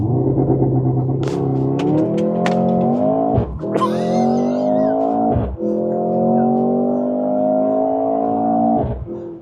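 Mercedes-AMG GLC 43 launching in Sport Plus mode, engine note climbing loudly through the gears with sharp pauses at each shift, the roar close and continuous across the run.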